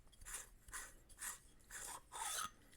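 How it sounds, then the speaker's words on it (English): Threaded handle being unscrewed on a Fallen Order-style lightsaber, five short rasping, scraping turns in an even rhythm, close and faint, with no voices. "To get to everything, you just want to unscrew the handle here. So we'll unscrew this."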